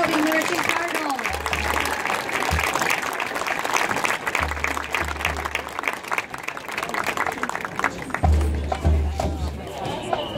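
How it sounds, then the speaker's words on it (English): Crowd applause for a high school marching band at an outdoor performance, continuous and fairly loud throughout, with scattered cheers and low thumps mixed in. "Let's give one more round of applause to the South Shelby Marching Cardinals."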